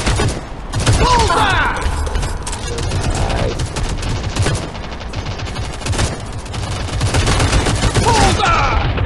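Rapid bursts of gunfire in the mobile shooter game Modern Strike Online, loud and dense with rattling automatic shots and sharp reports throughout, mixed with faint game sounds.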